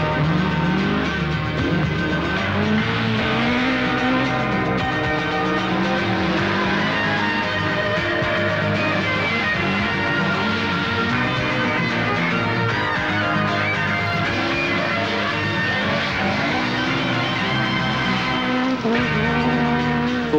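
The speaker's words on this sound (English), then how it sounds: "Staccato bursts of throttle and fiery attacking wheelmanship on the fastest forest curves" A Ford Works Escort rally car on a fast forest stage, its engine roaring loud and continuous with rising and falling throttle bursts, heard alone without talk.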